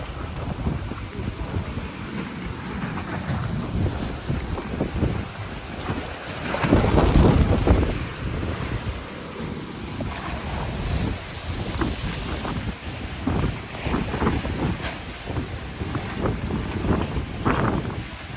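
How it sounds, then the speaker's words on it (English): Strong wind along the waterfront in Door County buffets the microphone in loud, rumbling gusts, swelling heavily midway and continuing in bursts throughout. "Oh, I don't think I've ever seen it this windy."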